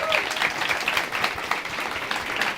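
An audience claps at a Brazilian Chamber of Deputies TV program on waste and recycling, giving a steady round of dense applause that stays at an even level throughout.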